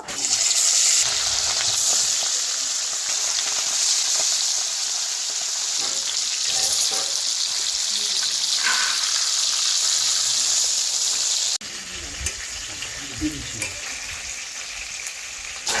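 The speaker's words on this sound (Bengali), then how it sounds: "এবার এই যে মাছ ভেজে নেব।" Indian mackerel fry in hot oil in a kadai, making a loud, dense, continuous sizzle with crackling spits. The sound drops somewhat quieter near the end, leaving softer pops. No one speaks.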